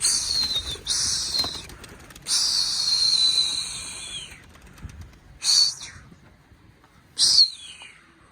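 Posta pigeons beat their wings and come down to land on the ground, making several loud fluttering bursts separated by quieter gaps, close to the mic with no talking.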